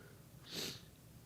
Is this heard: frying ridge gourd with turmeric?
no